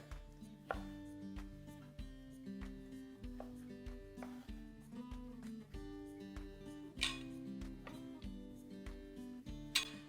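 A knife chops tomatoes into chunky pieces on a cutting board, with steady, rhythmic close-up thuds and clicks about every half second, repeated throughout.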